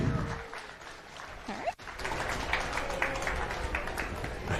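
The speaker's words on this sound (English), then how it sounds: "A round of applause for our guests." Audience applause welcoming NASA astronaut guests onto the stage at the Intrepid Museum, a steady wash of moderate clapping from a crowded hall with a brief knock partway through.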